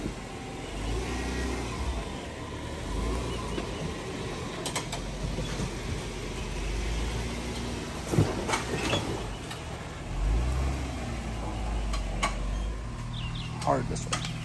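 Jeep on Atturo 40-inch tires crawling along an off-road trail at a ranch ORV park, with a steady low engine drone, occasional creaks and knocks from the drivetrain and suspension, and voices heard faintly in the background.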